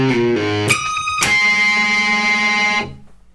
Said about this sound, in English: And then it goes into the tapping section, which slowed down sounds like this.